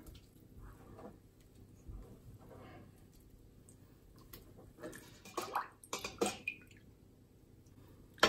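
Hands rub and massage garlic into raw meat being prepared for smoking, giving soft, faint wet squishes and slaps that grow busier and louder toward the end.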